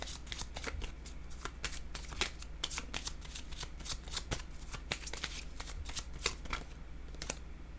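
Tarot cards shuffled by hand, close and crisp: a rapid series of riffling snaps and slides in repeated bursts, steady throughout and unaccompanied by talk.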